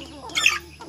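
Rhode Island Red and shamo mix chickens give a short burst of clucking near the middle of a brief rural clip, close and moderately loud.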